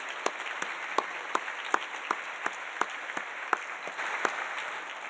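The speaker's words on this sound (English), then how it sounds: "So let's give ourselves a round of applause." An audience at a school's state-of-the-school address applauds steadily. The claps are faint and distant, with sharp individual slaps standing out from a soft, even patter.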